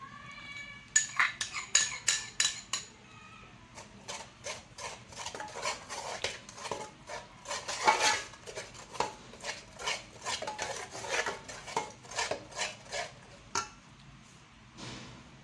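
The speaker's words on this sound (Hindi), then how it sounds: "और साथ में मैं ये दही डाल रही हूँ।" A metal spoon clinking and scraping against a cooking pot while yogurt is added for curry, a rapid series of close, bright taps and stirs without talk.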